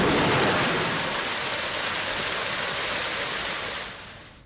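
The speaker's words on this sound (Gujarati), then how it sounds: "ધારી અને ગીરના જંગલમાં ધોધમાર વરસાદ વરસી રહ્યો છે" Heavy monsoon rain pouring over the Gir forest near Dhari, a dense, even roar of falling water that stays strong before easing slightly toward the end.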